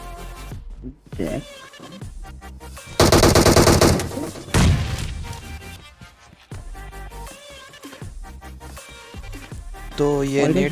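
Automatic gunfire in the mobile battle-royale game PUBG Mobile rattles out in repeated loud bursts over backing music, with a sustained barrage in the middle and a voice talking in places.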